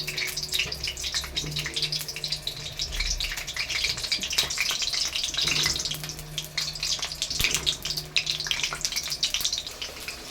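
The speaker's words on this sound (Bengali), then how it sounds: "এবার আলুগুলো আমি ভাজবো।" Potatoes fry in hot oil in a kadai with a steady, gushing, watery hiss that holds close and fairly loud throughout, broken by a few sharper crackles and no talking.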